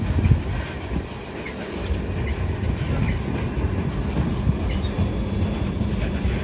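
A freight train rolls past close by, a continuous heavy rumble with rhythmic clickety-clack of wheels over rail joints and faint metallic squeals.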